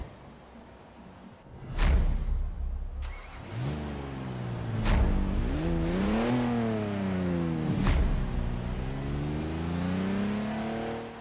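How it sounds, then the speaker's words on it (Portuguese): In the video game Forza Horizon 3, the engine of a Holden FX ute revs and shifts through gears, its tone climbing and dipping with sharp clunks between, loud and close throughout. "Um som de motor comportado"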